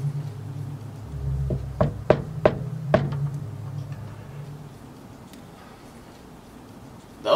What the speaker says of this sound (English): That was a soft knock.